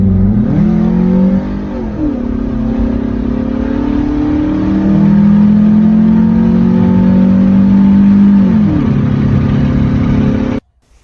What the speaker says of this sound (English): There's a cold air intake on the Pulsar.